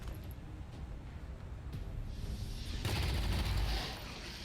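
Gunfire in XCOM 2 Long War of the Chosen: a sustained rattling burst of shots with a fuller, louder blast near the end, then a fade.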